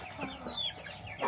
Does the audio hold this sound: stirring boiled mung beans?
no